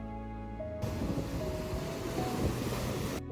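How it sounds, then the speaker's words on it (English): Ocean waves crashing against a rugged, rocky coastline: a loud, sustained roaring wash of surf with wind noise, cutting in abruptly and holding steady before ending suddenly. "waves rise tall and crash hard against the rocks"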